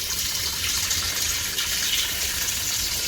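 Water gushes steadily from a tap, poured out to wash down a floor in place of sweeping, a continuous close splashing rush with no voices.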